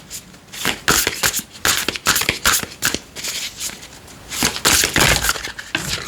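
A deck of oracle cards shuffled by hand, producing repeated papery riffles and slaps in uneven bursts, close and fairly loud throughout with no talking.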